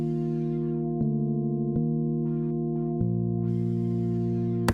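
A dry, sustained synth chord progression with no reverb, each chord changing abruptly every second or so, clean and moderately loud with no talking.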